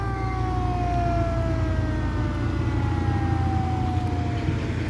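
A small passenger launch sounds its horn on a Bangladeshi river while approaching the landing, a long sustained tonal blare over a heavy, steady engine rumble.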